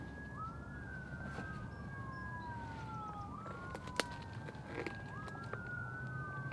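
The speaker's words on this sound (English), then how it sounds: "there's sirens from some emergency vehicle" A distant emergency vehicle siren wails in rising and falling sweeps through steady outdoor background noise at a wasp nest removal site, continuous throughout with one brief sharp knock.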